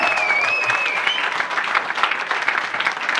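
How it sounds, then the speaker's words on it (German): People clap at a Bitcoin summer party in the Lüneburg Heath, close, lively applause with a high whistle-like tone early on, continuing steadily to the end. "Applaus für Moritz"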